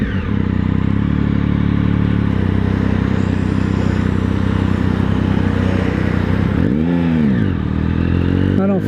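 A motorcycle engine runs steadily and loudly while riding, ridden in second gear in a power-wheelie attempt, then the revs dip and swoop back up near the end.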